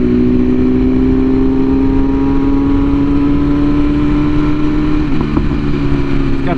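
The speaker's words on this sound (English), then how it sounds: "Got that classic inline four sound." A custom 2022 BMW S1000RR inline-four sportbike engine held at a loud, steady high rev, then dropping slightly near the end, close and continuous with no talk over it.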